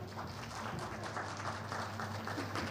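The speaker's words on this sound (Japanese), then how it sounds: "大きな拍手でお迎えください" An audience claps for a boat racer arriving for a winning interview, a dense, moderately loud run of applause with a low hum beneath, continuous from start to finish.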